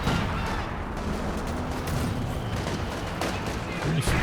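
Gunfire and explosions from a Company of Heroes 2 match involving a G43 sniper rifle, a dense, continuous battle din with sharp reports scattered throughout.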